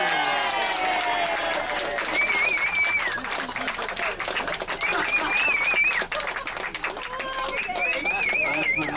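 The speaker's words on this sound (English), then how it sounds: "let's all raise a glass of beer and give him a very loud cheer." A group of people cheer and clap together with loud, dense voices and scattered whistles, a steady crowd roar lasting throughout, during a tour gathering in Tel Aviv.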